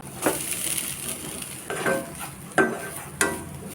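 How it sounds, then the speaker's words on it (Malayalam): Grated coconut dry-roasting in a pan, with a soft crackle and a few sharp, spaced scrapes and knocks of a spoon against the metal. "നമുക്ക് തേങ്ങ ആദ്യം വറുത്തെടുക്കാം ഒരു മുറി തേങ്ങയാണ് ഞാൻ എടുത്തേക്കുന്നത്"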